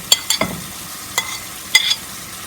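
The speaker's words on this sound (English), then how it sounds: "so I throw in some garlic" Garlic is stirred into a hot pan of lentil porridge, a few sharp scraping clinks of a utensil against the pan over a soft, low sizzle, close and alone.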